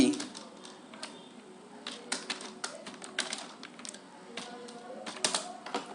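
Keys clack on a computer keyboard while code is typed, a run of quick irregular taps with sharper louder strokes scattered through, fairly close, with a faint voice in the background.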